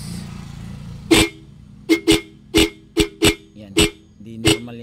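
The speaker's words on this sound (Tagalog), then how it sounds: "Yung horn natin, ibang iba yung boses." A Honda XR150L motorcycle's faulty horn beeps eight times in short, uneven bursts, each sounding thin and buzzy rather than a clean tone, against a low background hum.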